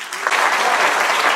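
Dense applause from a crowd at a Saturday morning gathering, steady and loud throughout, with no break.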